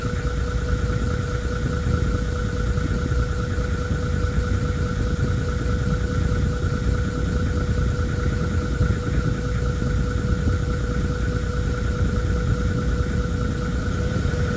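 Landcruiser 80 series engine idling with its air conditioning compressor running, a steady mechanical drone with constant whining tones, close and even throughout, no talk.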